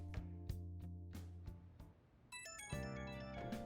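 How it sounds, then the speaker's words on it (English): A phone rings in the video game Persona 5 Royal, a bright, repeating chiming tone with steady rhythmic pulses that shift pitch partway through, played close and fairly quiet. "Blowing up my phone."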